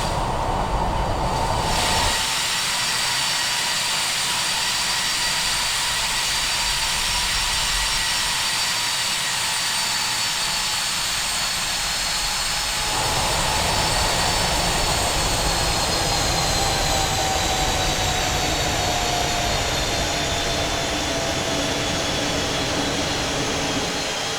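Aircraft engines running in the Prepar3D v4.2 flight simulator game, a continuous loud broadband roar with a steady whine, constant for the whole stretch with no voices.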